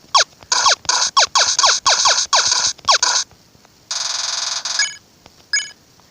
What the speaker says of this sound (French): Tu appelles l'âme égarée sur son portable.